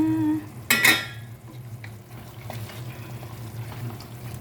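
Chicken rice bukhari being stirred in a cooking pot: a sharp metallic clank of spoon on pot, then soft scraping and gentle sizzling under a steady low hum.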